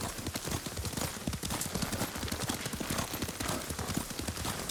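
Rapid, dense hoofbeats of a galloping horse in the video game Ghost of Tsushima pound continuously and loudly throughout, with no pauses.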